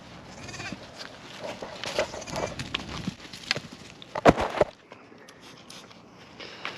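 A newborn ewe lamb and sheep in a lambing shed, with several bleats rising and falling amid shuffling and rustling, one loud bleat near the middle before quieter movement.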